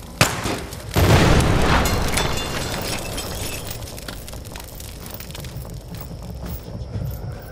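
An explosion in the video game Pathogen X: a sharp crack followed by a heavy booming blast, then a long rumbling, crackling tail of debris that slowly fades.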